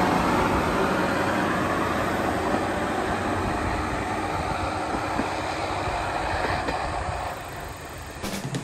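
A down train on the Hisatsu Orange Railway passes Yunoura station, a loud, steady rumble of wheels and carriages filling the whole stretch before easing slightly near the end. No one speaks.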